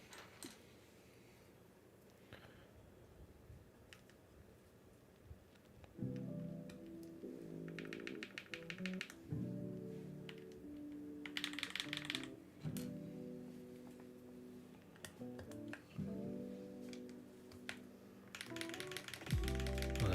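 Fast typing clatters on a custom SP-111 mechanical keyboard fitted with HMX Xinhai switches, a dense run of crisp, clacky keystrokes at close range with occasional louder key strikes and bursts of rapid taps.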